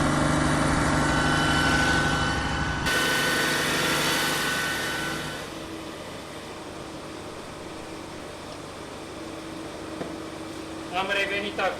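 A cogeneration engine in a hotel plant room runs with a steady, loud broadband drone. It drops abruptly to a quieter, muffled hum partway through, as if behind its enclosure, and a few faint clicks come near the end.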